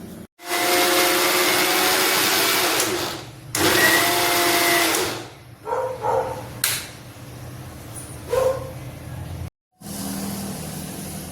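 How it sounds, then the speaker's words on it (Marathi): A mixer grinder grinds roasted sesame seeds in loud bursts, a long whirring run, then a second run, then shorter stop-start pulses and knocks, with no one talking. "आता हे भाजलेले तीळ पण आपल्याला मिक्सरच्या भांड्यात वाटून घ्यायचे आहेत"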